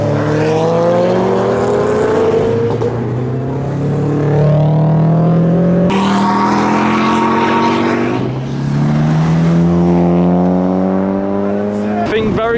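A tuned Nissan S15 Silvia Varietta convertible accelerates hard away from the JapFest car show, its engine revving up through rising gears close by and loud, with a brief lift between pulls before climbing again.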